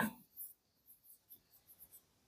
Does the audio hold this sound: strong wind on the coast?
no